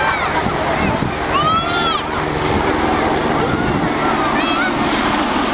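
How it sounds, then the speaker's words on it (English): A helicopter flies over the crowded Copacabana beach in Rio during Carnival 2009, a steady loud rotor and engine drone under wind and surf noise throughout. "Helicopter."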